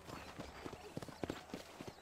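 Horse hooves in Red Dead Redemption clop in a quick, uneven rhythm, faint and mixed with soft background game noise over a couple of seconds.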